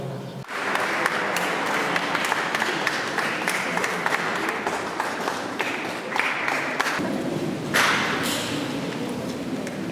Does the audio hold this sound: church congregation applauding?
yes